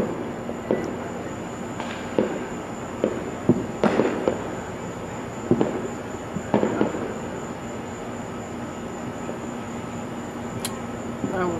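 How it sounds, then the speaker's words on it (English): Fourth of July fireworks pop and crackle in scattered, distant bursts across a quiet neighborhood night, each report short and fairly faint against steady background hiss. "Max, where's all the fireworks? Did they already shoot them all off?"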